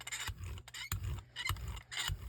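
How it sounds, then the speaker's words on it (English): Paint rolled out with a brayer on a gel printing plate, rhythmic sticky rasping strokes back and forth, close and steady with brief pauses between passes. "Oh, my brayers are noisy."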